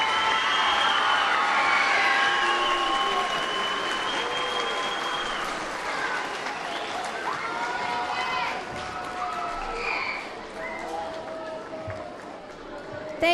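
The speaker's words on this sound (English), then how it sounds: "Can we please have a round of applause for all of our commendable recipients?" A school awards assembly audience gives sustained applause, a dense, steady clapping that fills the room and tapers slightly toward the end, with some cheering and faint voices mixed in.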